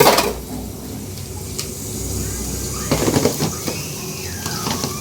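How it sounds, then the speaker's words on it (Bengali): Dishes, pots and pans being scrubbed and washed in a home kitchen, with clattering knocks and scraping close by, sounding over a steady background hiss. "এইদিকে ততক্ষণ আমি এগুলো একটু মাজা ঘষা করে নিই"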